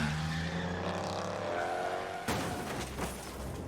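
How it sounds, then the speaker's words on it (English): A car in the video game Shadows Over Loathing drives down the street, engine tone revving and rising steadily, then a sudden harsh crash-like burst and rough rumble near the end. "tie a bolt to a car and drive down the street"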